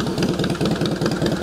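A blue 2002 Harley-Davidson CVO Wide Glide motorcycle with 1,669 miles idles close by, its V-twin engine thumping in a loud, steady, loping rhythm.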